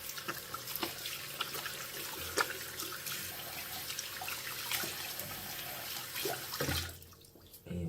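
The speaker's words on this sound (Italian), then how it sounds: "Vado a risciacquare di nuovo." Tap water runs steadily into a sink as a face is rinsed, with soft splashes close by, before the flow stops near the end.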